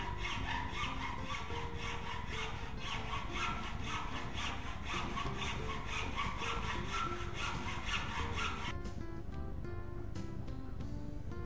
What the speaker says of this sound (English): This should then be cut with a very fine saw, such as a small tenon saw or a hacksaw.